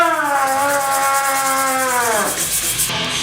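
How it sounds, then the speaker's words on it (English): Steady abrasive rubbing as a brazed bronze number hanger on a bicycle frame is buffed, a continuous close scrubbing with a ringing tonal whine that fades out near the end, with no voices. "Keep buffing."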